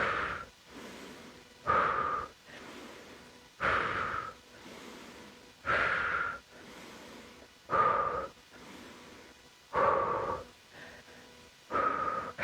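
Steady, loud breaths in and out during a lower-body conditioning workout, close to the microphone and repeating about every two seconds with no talking over them.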